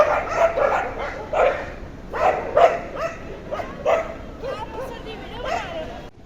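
Several dogs bark and yip in repeated bursts on a Ludhiana street in dense winter fog, fairly close and moderately loud, with a faint murmur of city noise and babble underneath.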